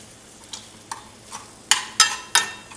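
Meat frying in a pan with onions and garlic gives a soft sizzle broken by a handful of crisp scraping stirs, close by, with the last three stirs louder, and no talking.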